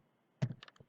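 A few quick keystrokes on a computer keyboard, a short cluster of soft close clicks in under half a second, set against near silence.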